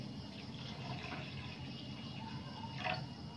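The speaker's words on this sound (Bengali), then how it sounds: "ডালটা আমি বসিয়ে দিলাম সিদ্ধর জন্য। দিয়ে আমি জল ঢেলে দিলাম" Water poured into a pot of lentils set to boil, a steady faint rushing pour with light splashing throughout, close but quiet, without speech.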